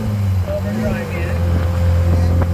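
The engine of a 1969 Triumph Spitfire hums at a steady cruise on the road with overdrive engaged, a low, even drone with wind noise and a voice talking over it.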